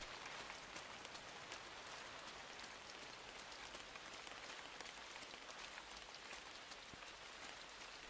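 Steady rain falls in the Inside video game, set on a cold, foggy pig farm in the countryside: a dense, continuous hiss of drops pattering on surfaces, even and unbroken throughout with no voices.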